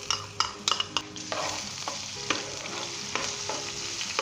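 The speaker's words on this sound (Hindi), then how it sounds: "हम इसे 1 मिनट के लिए घी के अंदर भूनेंगे ताकि इसका जो कच्चापन है वो दूर हो जाए" Ginger garlic paste frying in vegetable oil in a pan for a Pakistani beef keema with bell pepper: a steady, busy sizzle with scraping stirs and clatters of a spoon against the pan, close up.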